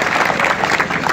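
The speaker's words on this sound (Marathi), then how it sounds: "आपण जोरदार टाळ्या वाजून त्यांचं स्वागत करूया." Crowd applause at a 2024 Lok Sabha election rally in Jalna, a dense, steady wash of clapping, loud and close throughout a brief moment.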